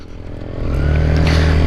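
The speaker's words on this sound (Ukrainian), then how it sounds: "Після довгого мучення Любко зремонтував свій мотоцикл" A repaired motorcycle engine revs up, its low rumble growing louder and steadier, close by with no talking.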